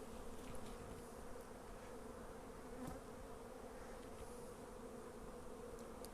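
Bees buzz around an open hive on a pallet, a dense, steady, faint swarm hum that continues throughout with no voices.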